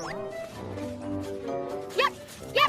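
A cartoon puppy yips twice near the end, two short, bright barks a half-second apart, voiced by a person imitating the dog, after a stretch of tonal narration-like voice sounds.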